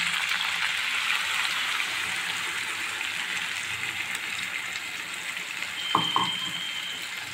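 Spice paste of dried red chillies and tomato meets hot oil in a pan, a faint steady sizzling hiss with a short pair of utensil knocks near the end.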